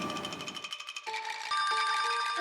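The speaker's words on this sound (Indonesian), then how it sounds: "Ini dia nelpon lagi." A mobile phone rings with a bright electronic ringtone, loud and close, first with rapid pulsing notes and then steadier sustained tones, with no voices over it.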